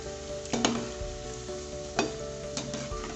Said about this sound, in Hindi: इसलिए इसे शुरू में हाई फ्लेम पे ही फ्राई करना है।